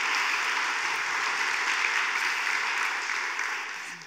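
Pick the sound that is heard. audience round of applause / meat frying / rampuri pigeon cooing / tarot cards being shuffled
audience round of applause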